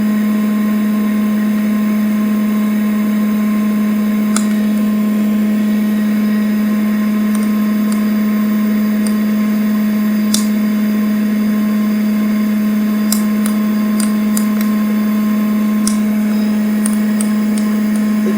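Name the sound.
coffee beans reaching first crack in a popcorn popper roaster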